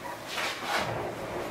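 A small dog trembling indoors gives a couple of short, soft whimpering yips close by, with no talk over them.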